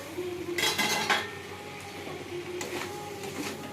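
A metal lid lifted off a pan of okra and potato curry with fish roe gives two bright clattering scrapes of metal on metal, close and fairly loud, over a quiet kitchen background.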